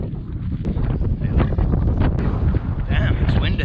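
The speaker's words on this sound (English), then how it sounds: "Damn, it's windy." Strong wind buffets the microphone on a rocky hilltop at Chrome Hill, a loud continuous roar with gusty swells, and a voice speaks briefly under it.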